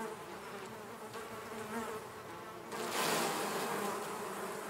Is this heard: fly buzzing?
yes